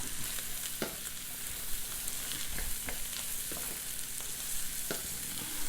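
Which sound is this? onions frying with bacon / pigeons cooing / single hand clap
onions frying with bacon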